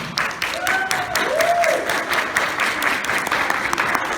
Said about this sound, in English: trying to make a cacophony of noise with its hands, clapping them together like a percussive instrument